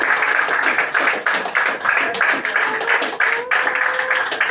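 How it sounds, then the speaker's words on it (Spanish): A church congregation applauds during a sermon, a dense, continuous wash of clapping that stays loud and steady for several seconds, with a faint tonal voice or instrument lingering underneath. "Aplauda al Señor."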